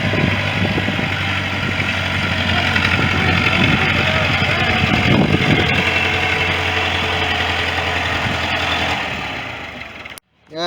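Old Chevrolet engine running at a steady, loud idle close by, a rough continuous rumble that cuts out abruptly near the end; people talk over it.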